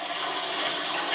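A water hose washes big rocks through a half-inch screen sieve while mining for garnets at a kimberlite pipe in Kansas, with a pump running. A steady, soft rushing spray continues without a break.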